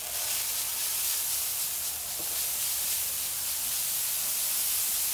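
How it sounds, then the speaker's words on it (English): A spray bottle hisses as it spritzes a brisket cooking on a Pit Boss grill, a soft, steady broadband spray close by against quiet surroundings. "Gonna go ahead and give it a spritz."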